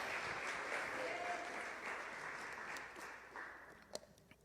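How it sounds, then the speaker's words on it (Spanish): A church congregation claps together in praise, a dense steady wash of applause that fades a little toward the end, with a few sharper single claps near the close. "Dele un gloria a Dios y dele palmas al Señor."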